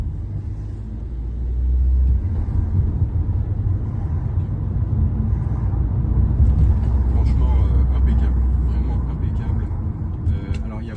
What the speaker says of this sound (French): Je vais accélérer un peu sur la ligne droite, on va voir s'il n'y a pas de bruit en termes de mécanique.